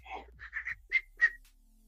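A person whistles a short, faint tune of several separate clear notes, rising and wavering, alone with no talking.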